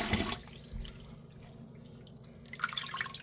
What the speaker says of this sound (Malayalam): നമ്മൾ ഇങ്ങനെ കഴുകി രണ്ടു മൂന്ന് വട്ടം ഒന്ന് കഴുകി ഇങ്ങനെ എടുത്താൽ മതി